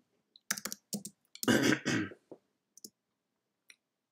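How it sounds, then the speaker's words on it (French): Computer keyboard typing a Google search, scattered quiet clicks and short bursts of keystrokes in a near-silent room, close up with no voice. "si on tape sur Google Francesco Mandato"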